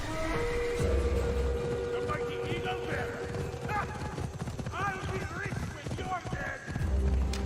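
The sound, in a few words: horse galloping, from a video game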